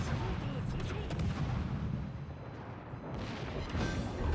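Steady rumbling naval gunfire from a Shimakaze destroyer in a video game battle, with dense booming shots that continue without a break and a faint speaking voice beneath them.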